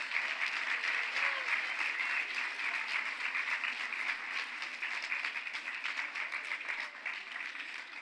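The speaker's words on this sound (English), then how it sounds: "Let's give them a round of applause." Students and audience at a school chapel service clap steadily for standing mentors, a dense, continuous round of applause that fades slightly toward the end.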